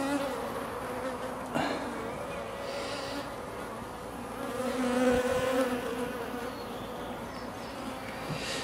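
Honey bees buzz at an open beehive while an artificial swarm is made, a steady, fairly soft hum of many insects with a brief knock partway through.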